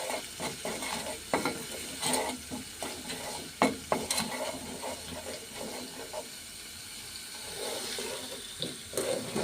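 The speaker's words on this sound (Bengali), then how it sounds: "এগুলো ভালো করে কষায় নিতেছি।" Spices for a shing fish curry fry in a pan with a soft continuous sizzle, stirred in quick scraping strokes that give sharp clicks and taps, while water runs faintly at moments; no one speaks.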